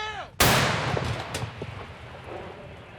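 One loud artillery gun fires near Kupiansk, Ukraine, with a sharp, powerful blast, then a long rumbling echo slowly fades away.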